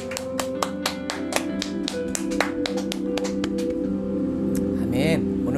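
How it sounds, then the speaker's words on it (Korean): Church congregation claps in a steady, loud rhythm of regular beats for several seconds. Sustained organ or keyboard tones run underneath. "우리 하나님께 감사의 박수 올리겠습니다."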